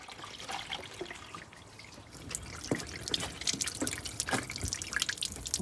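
Water poured into a drainage channel on a Mercedes R230 SL gives a soft, close trickle with scattered drips, growing slightly busier and louder toward the end.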